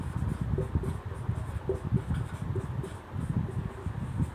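Chalk or a marker taps and scrapes on a classroom board in quick, irregular strokes, a dull close scratching that keeps going steadily with no speech.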